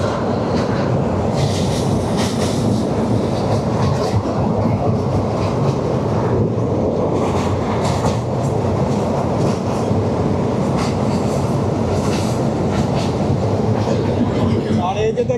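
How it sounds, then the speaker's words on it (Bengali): Kapotaksha Express passenger train rolling onto the Hardinge Bridge at Paksey over the Padma River, a loud continuous rumble with steady clattering wheels and faint voices in the carriage. "এই যে আমরা এখন কিন্তু ঢুকে যাচ্ছি পাকশি হার্ডিঞ্জ ব্রিজে।"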